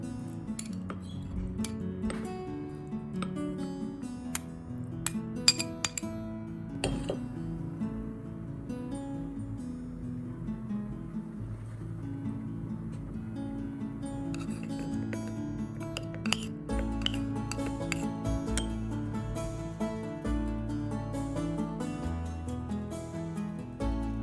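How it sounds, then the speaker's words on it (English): Grated ginger, turmeric powder, lemon zest and black pepper added one by one into a dry glass jar, giving light clinks and taps of glass and utensil scattered throughout, soft and fairly close, with no talk. "I pour the grated ginger, turmeric powder, lemon zest, and black pepper one by one straight into the dry glass jar."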